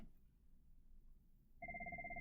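A telephone starts ringing partway through after a quiet room tone, its rapid warbling electronic bell pulsing loudly and evenly to the end.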